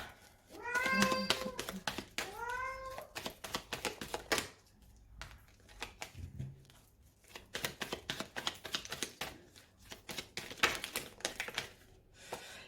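A house cat meows twice in close succession, wanting to be let outside, followed by a stretch of clicking and tapping noises in a quiet indoor room.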